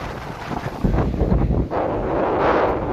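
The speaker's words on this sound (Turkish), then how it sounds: "Çok rüzgar ve çok dalga var." Steady roaring wind buffets the microphone, with a broad rushing wash of Black Sea waves breaking nearby near Istanbul; no voices.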